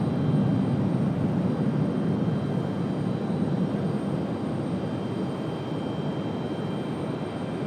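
A JetBlue jet airliner departs Raleigh Durham airport, its engines producing a steady, broad roar heard from a distance that fades slowly over the stretch.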